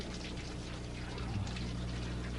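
Water pours steadily into a bath, a continuous close rushing wash with no clear breaks, moderately loud.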